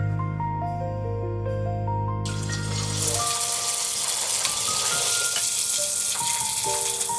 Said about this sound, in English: We're going to fry these for about 2 to 3 minutes, and we're just going to keep flipping them so they get nice and golden evenly.